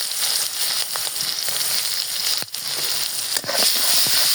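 Onion and green chillies fry in a pan with a dense, bright, continuous sizzle that stays loud throughout, broken by a couple of brief stirring knocks.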